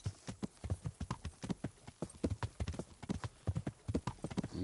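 Horse hooves clip-clopping at a steady walking rhythm in the video game Kingdom Come: Deliverance, many close, crisp strikes in an even pattern with no talking over them.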